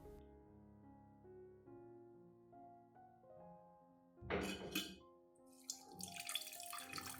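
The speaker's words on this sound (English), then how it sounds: "use a strainer or a fine cloth to filter out all the pulp, keeping only the extracted liquid" Liquid extracted from plant pulp pours through a strainer or fine cloth in splashy bursts after soft background music, close and moderately loud, trickling and gurgling unevenly.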